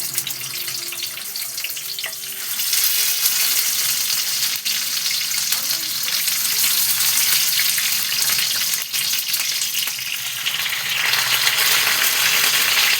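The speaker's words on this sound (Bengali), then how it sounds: "দেখো তেল গরম হয়ে গেছে, এবার আমি এক এক করে এর মধ্যে দিয়ে দিচ্ছি।" Cauliflower paturi parcels sizzling in hot oil in a pan over a low flame, a steady close crackling fry that swells louder partway through, with no talking.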